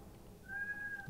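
A single faint, thin meow from a cat in the video game ARK, rising briefly after a half-second of quiet, distant and alone.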